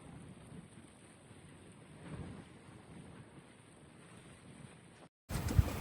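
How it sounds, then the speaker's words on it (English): Soft, steady hiss of a rain squall on a sailboat off St. John, with gusty wind rumbling underneath, swelling briefly midway, ending in a sudden louder burst of noise. "Squall just came through"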